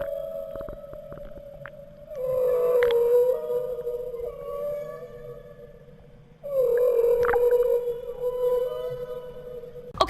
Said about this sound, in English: let's take a listen to a more haunting track released by the humpback whale